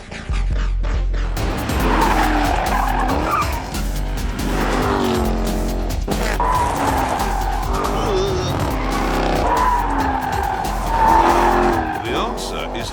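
A Jaguar XE Project 8 in track mode with traction control off, pushed beyond the limit: loud, close engine roar with repeated tyre squeals and skids through the corners, continuous and aggressive throughout.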